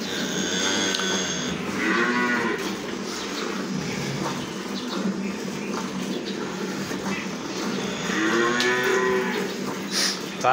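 Cattle mooing in a village during morning milking, several long drawn-out lows standing clearly above a steady background, with a second loud moo near the end.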